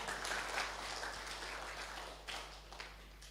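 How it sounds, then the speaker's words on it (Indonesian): Church congregation gives brief, faint applause during a worship service, a soft steady patter of hands with a few sharper claps as it tapers off. "Beri tepuk tangan yang meriah."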